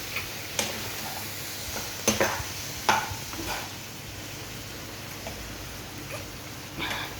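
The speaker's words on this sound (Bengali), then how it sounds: "মশলাটা যাতে ভালো করে কষা হয়, একটু জল দিয়ে দিলাম।" Spice paste for a bottle gourd and chicken curry, loosened with a little water, gets stirred in a pan: a spatula scrapes and taps intermittently over a soft, steady low sizzle, close by and moderately quiet.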